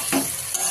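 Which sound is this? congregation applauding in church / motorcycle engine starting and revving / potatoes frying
potatoes frying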